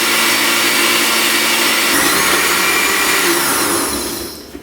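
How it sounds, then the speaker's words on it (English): A kitchen blender pureeing avocado soup until smooth, running as a loud, steady whir that holds nearly constant before tapering off at the very end, with no voices. "I'm gonna let that puree until it's nice and smooth."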